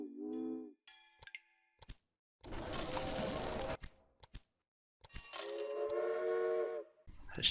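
Trains run in the railway sim Railway Empire, set in the American Midwest of 1830–1850. Short whistle blasts and bursts of steam and rolling noise come and go, separated by near-silent gaps, with no talking.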